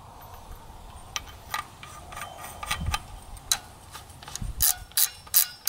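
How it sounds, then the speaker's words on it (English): The barrel shroud of a Sten submachine gun ratchets into place during reassembly with a series of close metallic clicks and ticks that grow louder and sharper at the end. "You ratchet it into place."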